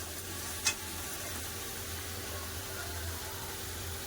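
Tomatoes sautéing in a pan for a Bengali fish curry with potatoes, giving a faint, steady hiss throughout, with one brief click near the start and no voices.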